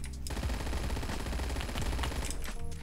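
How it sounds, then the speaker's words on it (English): PPSh-41 submachine gun firing in the video game Phantom Forces: a dense, continuous full-auto burst lasting nearly three seconds, loud and close, with a brief break near the start and a short pause before it ends. "Shooting, I wasted a whole mag on that one guy"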